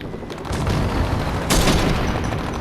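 Gunfire crackles in a video game battle as a helicopter lands nearby, a steady dense roar of shots and engine noise with a louder burst midway, no talk.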